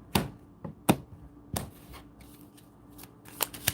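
Tarot cards being shuffled in several quick riffling bursts with short pauses between, crisp and close.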